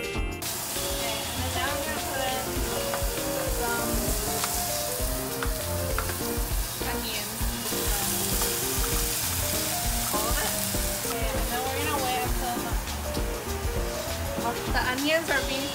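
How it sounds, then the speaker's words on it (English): Meat sizzles loudly in a hot pan for kimchi jjigae, a continuous dense frying hiss with occasional stirring scrapes, heard up close with a person talking over it. "you should heat up your pan first and then put the meat in"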